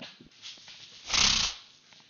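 A single short, breathy nose blow, about half a second long, heard close and fairly quiet against a faint background.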